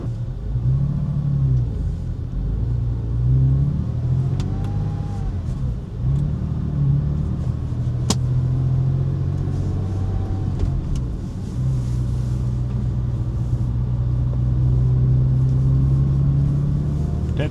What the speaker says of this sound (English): Oh man, so stoked to drive this car.